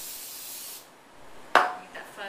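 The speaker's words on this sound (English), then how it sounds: "Spray the pan with the fat-free spray" Fat-free cooking spray from an aerosol can hisses into a warm pan in two short bursts, a steady first spray followed by a sharper, louder one, close by with no talking.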